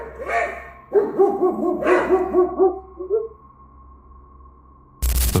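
A dog in a forest barks at a mountain lion, giving a quick run of close, loud barks and yelps. A faint steady tone continues underneath, then a harsh burst of noise cuts in at the end.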